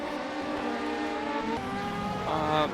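LMP prototype race cars roar past at Silverstone in an endurance race, a sustained high engine whine with shifting pitch that swells louder near the end.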